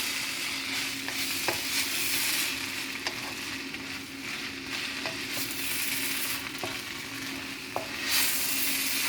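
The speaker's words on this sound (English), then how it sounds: "I'm just gonna let this stir fry for another minute and two" Bok choy stir-frying in a hot pan, a steady broadband sizzle throughout with occasional light clicks of a utensil stirring, close and continuous with no talking.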